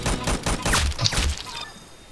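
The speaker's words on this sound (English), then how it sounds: "I just want to test the PPSH out on you" Rapid burst of PPSh submachine gun fire in a Roblox shooter, loud and close, with dense repeated shots over about a second and a half before fading out.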